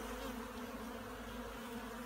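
Dense honey bee hum rising from an opened hive during an inspection, a steady low drone of many bees, continuous and close, with no talk.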